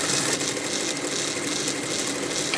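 A sewing machine stitching a seam on a brassiere top, a continuous fast mechanical whir and chatter, close and steady, with no voices.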